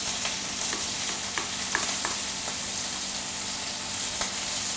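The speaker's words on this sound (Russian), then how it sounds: "Перемешиваем желток с сыром." Steady scraping and light tapping of a utensil stirring egg yolk with cheese into a thick mixture in a bowl, with a soft sizzle in the background.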